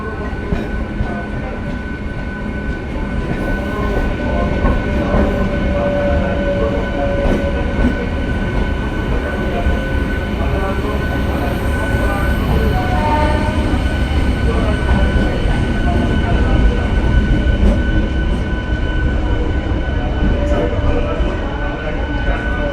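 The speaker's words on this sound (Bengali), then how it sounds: "কৃষ্ণনগর শিয়ালদহ এসি লোকাল ও Amghata Krishnanagar inaugural special train পাশাপাশি" A Krishnanagar–Sealdah AC local and an Amghata–Krishnanagar inaugural special train stand side by side, giving a loud, steady rumble with a constant electrical hum that runs unbroken throughout. Faint voices mix into the background.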